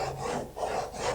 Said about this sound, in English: saw it a little bit further down now